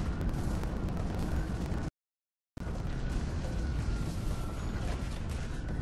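Rocket launcher blasts and explosions from the Halo Reach video game, loud and continuous with dense booming bursts, broken by a short stretch of silence before the roar resumes.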